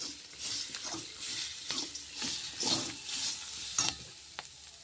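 Drumstick leaves and grated coconut are stirred and sautéed in a pan, with repeated scraping strokes of a spoon against the pan over a light sizzle, close by and uneven in rhythm.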